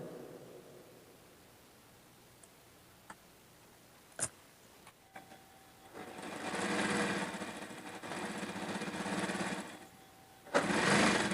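A sewing machine with a shirring (gathering) foot runs in two bursts while stitching to gather fabric, a steady buzzing whir near and loud, preceded by a few isolated clicks and taps.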